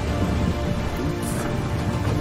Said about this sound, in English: It was about to rain.